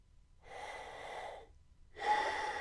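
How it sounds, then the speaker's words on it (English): Two calm breaths taken through a spirometer mouthpiece, each a soft airy rush of about a second with a short pause between, close and alone. "I'm going to just take normal breaths, making sure I breathe only through my mouth and not through my nose."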